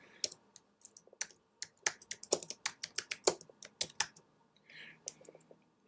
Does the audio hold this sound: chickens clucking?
no